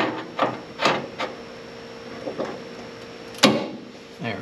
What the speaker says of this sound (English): I'm going to put a clamp on the top.